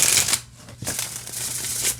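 A tarot deck themed on The Office is shuffled by hand, giving a close, steady papery rustle and riffle that runs nearly the whole time after a brief pause near the start.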